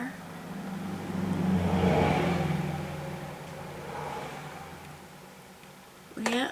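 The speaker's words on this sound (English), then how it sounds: "People are running their cars around outside." Cars run around outside on a Thursday night, a muffled engine revving that swells, fades and rises again at a distance, with a voice briefly speaking near the end.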